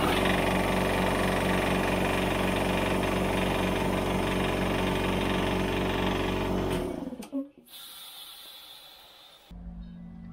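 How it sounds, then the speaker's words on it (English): Ingersoll Rand belt drive air compressor running loud and close, a steady pounding mechanical drone that winds down and cuts off partway through, followed by quieter workshop background. "belt drive compressor."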